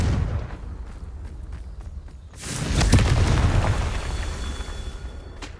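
A Confringo blasting curse goes off in Hogwarts Legacy, a loud booming explosion that swells midway and rumbles down slowly after quieter game ambience.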